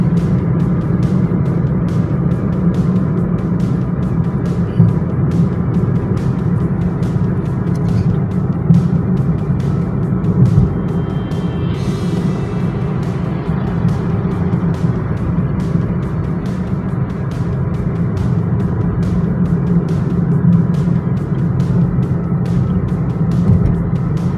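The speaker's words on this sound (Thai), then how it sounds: "รถก่อนจะเยอะนิดนึงครับ รถมอเตอร์ไซค์ก็เยอะครับ" Steady road traffic of cars and motorcycles in Hua Sai district, Nakhon Si Thammarat, Thailand, forms a continuous rumbling wash of engines and tyre noise that stays fairly loud throughout, with no talking.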